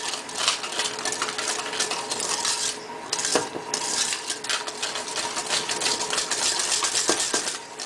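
A whisk or spoon scrapes and clinks against a bowl as flour is mixed vigorously into clafoutis batter, a busy irregular rattling and rubbing close by, with no talk.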